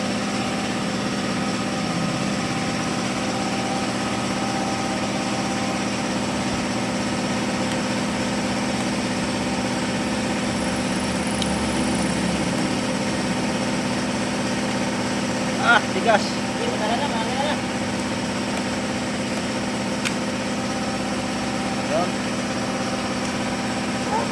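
A Suzuki Raider 150 carburetor motorcycle engine idles steadily and evenly through the whole stretch, with a few brief clinks near the end.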